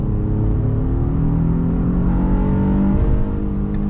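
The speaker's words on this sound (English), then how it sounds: "that VTEC, when it crosses over, that's just like the best noise in this vehicle" A Honda Passport TrailSport V6 revs hard as VTEC engages, a loud, steady engine roar rising in pitch over a few seconds with a slight shift in tone near the end, up close and with no voices.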